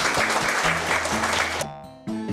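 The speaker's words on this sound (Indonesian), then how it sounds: "nah itu tepuk tangan" Children at an elementary school clap together in a steady burst of applause, loud and close, with a few voices and sung tones mixed in before a brief drop near the end.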